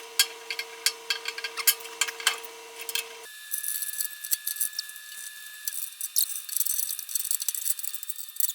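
A ratchet strap tied around a bandsaw frame in a workshop is ratcheted in quick bursts of sharp metallic clicks, close and fairly quiet, with short pauses between strokes and a faint hum behind for the first few seconds.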